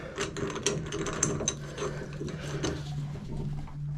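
A wrench working loose a shower or bathtub faucet stem, giving a close run of ratcheting, clicking metal turns over a steady low hum.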